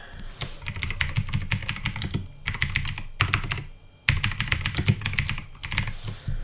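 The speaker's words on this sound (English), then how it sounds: "We'll use this one and just type in" Typing on a computer keyboard: quick, close clatter of keys in dense bursts, with brief pauses near the two-second and four-second marks. No voices.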